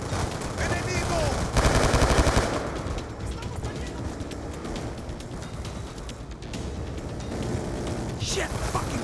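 Turret gunfire rattles in rapid automatic bursts during a Call of Duty campaign battle, loud and dense with explosive booms in a chaotic combat mix.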